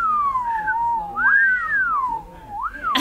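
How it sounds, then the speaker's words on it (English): A wavering, sliding whistle that wanders up and down in pitch and breaks off mid-tune, close and fairly soft, with a short noisy burst at the end. "Tried to whistle, but it didn't quite come out."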